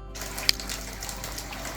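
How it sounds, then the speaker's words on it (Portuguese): Water rushes steadily over the wooden water wheel of a monjolo mill, a continuous close gushing and splashing with a small sharp knock. "Ali está o manjolo, que também através de uma roda da água faz girar todos os pilões"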